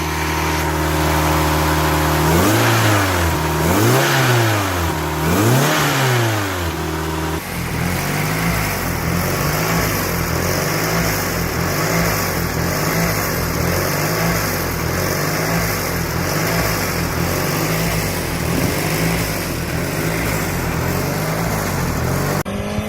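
A Mitsubishi 4G63T turbo engine fitted in a Datsun 510 build revs under throttle. The pitch rises and falls in repeated sweeps, then the engine settles into a loud, sustained, raspy drone close by.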